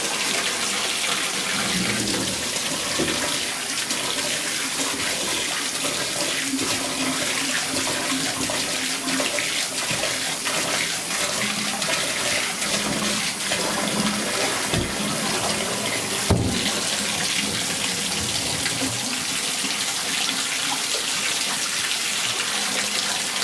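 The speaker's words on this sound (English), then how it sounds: "Dump it out again, and I'll keep doing this until the water runs clean." Water from a 5-gallon betta fish tank being poured out while a tap runs, a steady rushing, splashing flow lasting over twenty seconds, with a couple of brief heavier splashes near the middle and no talking.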